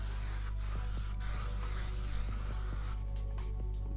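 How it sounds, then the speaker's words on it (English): Sunscreen spray hisses from a can in a few short bursts, a fine close spray over a quiet background with no voices. "the spray on this is amazing."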